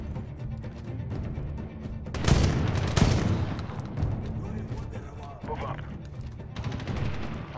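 Heavy bursts of shotgun fire crack out in the Medal of Honor campaign, two loud blasts close together amid continuous battle noise and a rumbling background, with a player's voice talking over it.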